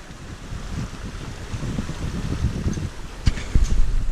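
Wind rushes steadily over a sailing boat at sea, a broad low roar with faint rushing water and a couple of brief knocks near the end; no one speaks.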